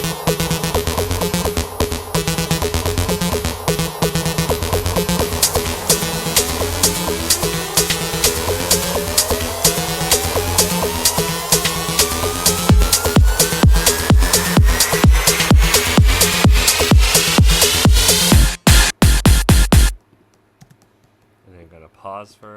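Produced pop intro built in Logic Pro X, with a bass line under layered synths and a rising sweep, steady and loud before a sharp drop into near-silence at the end.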